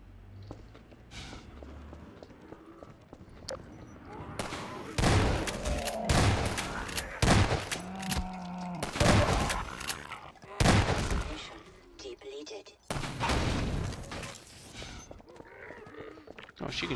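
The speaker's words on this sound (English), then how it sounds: "Let me shoot out the latch. I might be a little rusty with this rifle." Rifle shots crack out in the Half-Life 2 Episode 1 video game, a series of separate loud reports spaced irregularly over a quiet background, with faint voices and footsteps in between.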